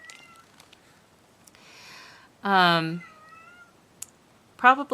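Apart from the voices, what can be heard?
cat meowing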